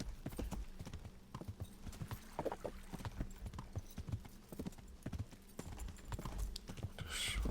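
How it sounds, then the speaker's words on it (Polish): Horse hooves clip-clop at a steady riding pace at night in Kingdom Come: Deliverance, with close, distinct impacts and no talk. "Więc dam radę konno jechać."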